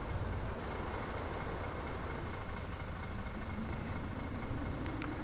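A bus in the City Transport Simulator game rattles and vibrates, giving a steady, dense rumble with a constant drone that holds at an even level from start to finish, with no voices.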